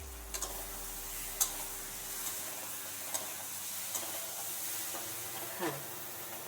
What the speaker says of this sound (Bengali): বেগুনগুলো সব দিয়ে দিই এক এক করে। হালকা করে একটু নেড়ে নেব।